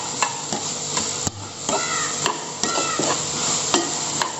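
A spoon stirs a sweet banana kebab mixture with a pinch of salt in a bowl, giving steady close scraping and soft squelching with sharp clinks against the side at irregular intervals.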